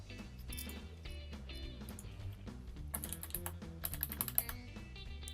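Credit card details are typed on a computer keyboard in a steady stream of soft, rapid key clicks, growing busier and sharper toward the end, heard close and alone against low background music.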